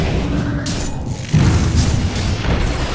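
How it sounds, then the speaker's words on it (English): A tower collapsing in the Dota 2 video game, heard as a deep booming crash partway through over a steady wash of game sound effects, with no talk. "Radiant's bottom tower has fallen."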